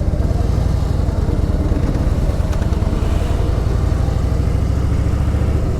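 Motorcycles on a monsoon ride in the Kerala ghats rev and pull away together, a steady, loud, close engine drone with rhythmic low pulsing that holds throughout.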